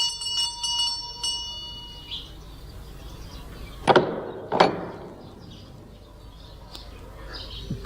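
Two bright metallic strikes of a house bell ring out in a radio drama, each leaving a short fading tail, amid faint room tone and a few earlier light taps.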